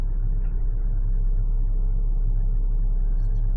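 A Kobelco SK75SR-7 mini excavator's diesel engine idles during a winter warm-up, a loud, close, steady low rumble with an even throb and no other sounds.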